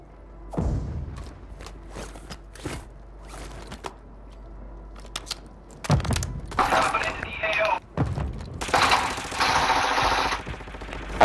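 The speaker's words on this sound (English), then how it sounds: "I broke one with my grenade over here in the corner by the bar" In Call of Duty, a grenade goes off and breaks things near a bar, amid scattered gunfire cracks, loud bursts of shattering and thuds, with players talking over the chaos.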